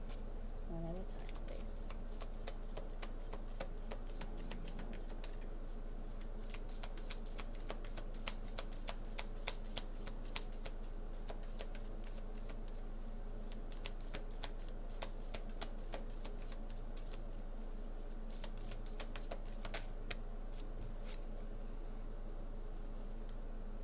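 Tarot cards being shuffled and slipped against one another in a quiet room, a long run of soft, rapid riffling flicks that stays faint and close and continues steadily throughout.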